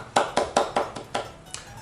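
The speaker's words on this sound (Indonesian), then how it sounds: "Tepuk tangan buat kalian" Six quick hand claps, fairly close and evenly spaced, from a teacher applauding children during a primary school lesson; short sharp slaps with a slight pause before the last one.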